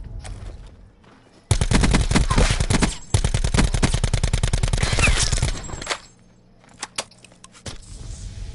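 Rapid bursts of automatic gunfire fill a PS4 shooter match, loud and dense for several seconds, then trailing off into scattered single shots, with players talking over it at times.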